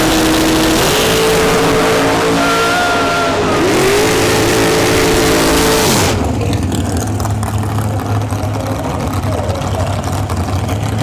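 A dragster roars down the strip during a sportsman drag racing final, the engine loud and continuous, with a sharp change in pitch and texture as the run passes about midway.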